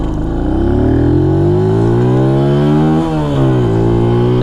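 A small mini moto engine revs hard and climbs in pitch through the gears with brief dips at each shift, loud and close the whole time.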